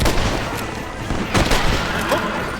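Gunfire in Red Dead Redemption during a Mexico roleplay session, a quick cluster of sharp cracks and booms over a couple of seconds, close and fairly loud.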